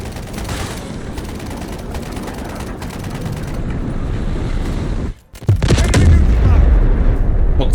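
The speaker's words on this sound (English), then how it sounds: "Request missile strike on coordinates." Missile strike explosions in the video game Delta Force, a dense roar of blasts and gunfire, then a brief drop before a heavy boom rolls in loud and close, with players talking over it.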